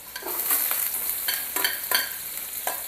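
Chopped onion hits hot oil with cumin and crushed garlic for a dahi tadka, sizzling steadily while a spoon scrapes and stirs the pan in several quick, distinct strokes, close and clear.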